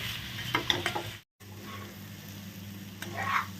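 Raw rice fried with salt in a pan, a quiet close sizzle with stirring scrapes, a brief silent cut partway through.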